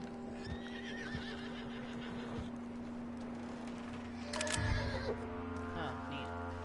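A horse in Red Dead Redemption 2 whinnies, with hoof clip-clops and a steady game-world hum underneath; a louder burst of horse noise comes near the end, and a voice talks over parts of it.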